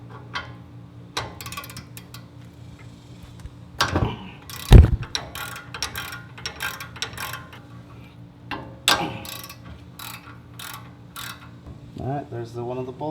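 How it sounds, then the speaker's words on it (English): Ratchet loosening 17 mm caliper bracket bolts behind the caliper on a 2nd-gen Toyota Tacoma, rapid close clicking runs broken by a few heavier metallic clunks, with some talk in between. "this is the best angle I could get to remove the 17 millimeter 2 bolts that are here behind the caliper."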